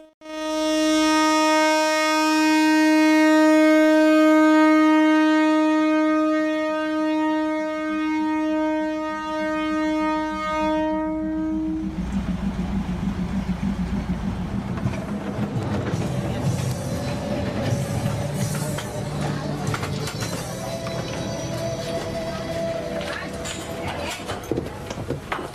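A train sounds a long, loud horn, then rumbles and clatters as it passes through the Ho Prom market beside the tracks, where umbrellas and shades are pulled back. The noise stays close and steady throughout.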